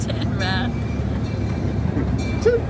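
A small miniature park train at Pullen Park rumbles and clatters steadily along, with children's voices and a brief high squeal mixed into the low rolling noise.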